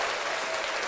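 A short burst of dense applause, a steady even patter of clapping at moderate level with no voices over it.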